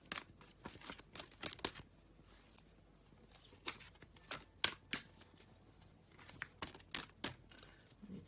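A large, oversized Druid Tarot deck is shuffled by hand in a series of quiet, close riffling and flicking bursts with short pauses between, no talk.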